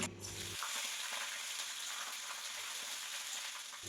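Broad beans frying in a wok, a soft steady sizzle and hiss heard up close but fairly quiet, after a short low rumble at the start, with no speech.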